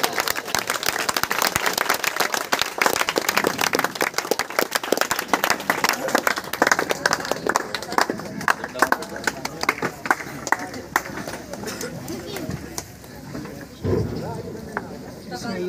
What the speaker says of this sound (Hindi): आपकी भरपूर तालियों में जनाब गुलाम रसूल खड़े होकर इस्तकबाल कीजिए बेटा